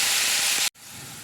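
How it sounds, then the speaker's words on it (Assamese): Potatoes fry in hot oil with cumin in a pan, giving a loud, hissing sizzle that breaks off abruptly, then returns quieter for a moment. "এতিয়া মই অকণমান আলুখিনি ভাজি যাম"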